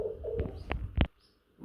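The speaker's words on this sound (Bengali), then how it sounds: "লাহোরি কবুতর সিঙ্গেল একটা নর" A single male Lahori pigeon at a pigeon farm gives a few short, soft coos that build to one louder, close coo before falling quiet.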